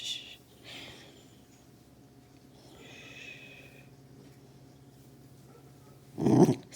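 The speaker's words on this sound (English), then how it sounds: "You don't have to bark at every single dog." A dog snorts and growls in a low, breathy way indoors, ending in a short, loud burst that sounds like a bark, with quiet rustling heard in the gaps between sounds.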